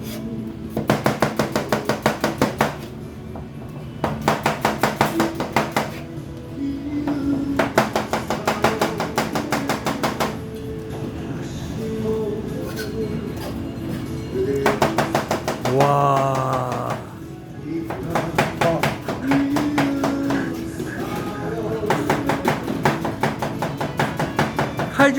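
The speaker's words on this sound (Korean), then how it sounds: "칼질하면 칼질하는 걸 보여줘야 돼요." Rapid, rhythmic knife chopping on a cutting board in quick bursts separated by short pauses, with a brief exclamation from a voice.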